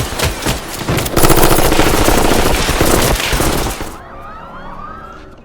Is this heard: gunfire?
yes